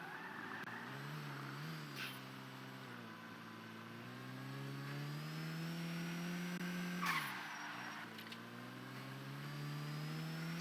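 A car in the video game GTA drives with a droning, shifting engine tone, and its tires squeal into skids in short bursts, fairly faint and without talk.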